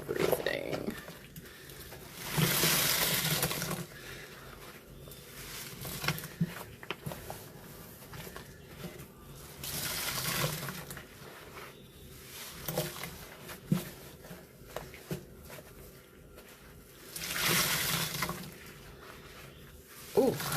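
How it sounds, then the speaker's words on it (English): A crusty sponge is squeezed in a fake rinse, heard close up as three long, dense, crackling squelches spaced several seconds apart, with quieter crunching and handling noise between them. "crusty sponge squeezes in a fake rinse are everything"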